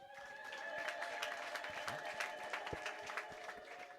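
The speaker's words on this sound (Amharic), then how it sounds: "እልል ብለን እግዚአብሔርን እናመስግን" Church congregation at a Sunday service breaking into sustained high ululation with scattered clapping, a faint, distant wash of crowd voices and claps throughout.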